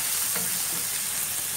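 Chana masala fries in a pan while a spoon stirs it, making a continuous close sizzle with soft scraping underneath and no voices.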